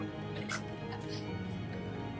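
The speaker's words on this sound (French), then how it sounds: "Les chiens sont hystériques." Dogs bark and yip excitedly in a winter village in Transylvania, several sharp high calls overlapping, heard at moderate distance under ongoing talk.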